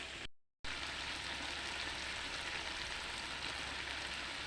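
Spices sizzle and fry in a pan with a dense, steady crackling hiss, cutting out briefly near the start and then continuing loud and close.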